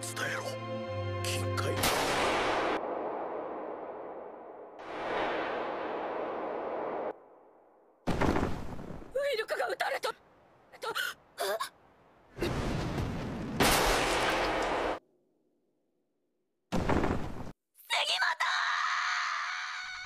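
Gunshots ring out in an anime battle scene, sharp bursts separated by gaps of silence, mixed with dramatic music, screams and voices.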